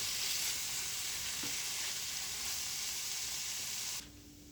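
Onions frying in a pan, stirred now and then: a dense, even sizzle with a few soft stirring touches, cutting off abruptly near the end to a quiet hum.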